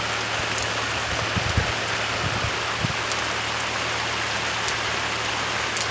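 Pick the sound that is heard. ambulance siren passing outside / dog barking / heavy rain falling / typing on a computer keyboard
heavy rain falling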